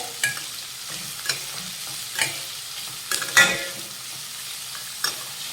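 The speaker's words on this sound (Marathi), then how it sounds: "आता हा कांदा हलक्या गुलाबी रंगावर परतून घेऊया" Onions sizzle softly in a hot pan while a spatula scrapes and stirs at intervals, giving a few sharp clatters over the steady frying hiss.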